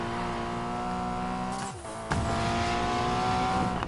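A Porsche GT4 in the Need for Speed Payback video game holds a steady high engine drone, dips briefly, then tires squeal as it drifts before the engine surges back, loud and continuous.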